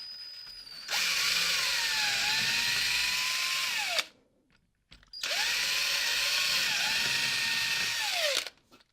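A cordless drill whirs loudly in two long bursts drilling holes into a wooden door frame, revving down at the end of each, separated by a brief pause.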